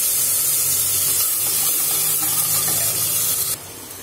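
Cooked lentils pour into a pan of fried vegetables for sambar, making a loud, steady hissing, splashing sizzle that drops off sharply near the end.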